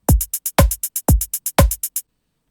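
Electronic drum pattern with a deep kick and snare on the beats and rapid sixteenth-note hi-hat ticks in between, four even bars of crisp, loud, dry hits ending abruptly with silence at the tail.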